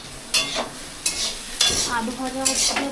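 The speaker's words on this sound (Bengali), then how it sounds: "এখানে আলু ভাজা হচ্ছে" Potatoes fry in a pan with a continuous sizzle, punctuated by several loud, close scraping stir strokes from a spatula, in a farmhouse kitchen near Kolkata.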